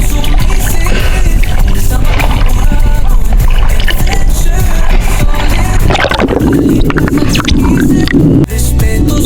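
A strong river current rushes past rocks in a loud, unbroken roar of churning water that stays dense and steady throughout, with a brief dip near the end.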